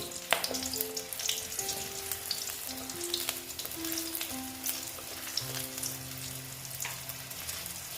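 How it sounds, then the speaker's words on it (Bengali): Garlic and dried red chillies fry in hot oil with a constant, busy crackling sizzle that carries through the whole stretch at an even level, without speech. "আমি এইবার রসুনগুলো দিয়ে দিচ্ছি আর শুকনো লঙ্কা দিয়ে ভেজে নিচ্ছি ভালো মতো"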